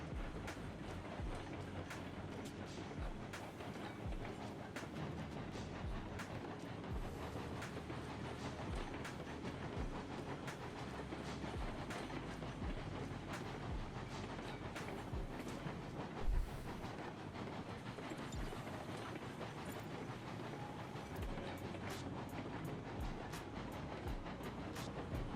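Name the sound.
locomotive train running on Lake Chama & Pacific Railroad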